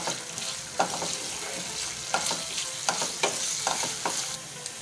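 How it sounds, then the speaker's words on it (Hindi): Sliced onion sautéing in a pan for spicy achari fish, a steady sizzle with several sharp scraping stirs of a spoon against the pan at close range, no voices. "अब हम इसमें डालेंगे एक प्याज इसे मैंने स्लाइस कर लिया है इसे भी हम हल्का सा सौते कर लेंगे"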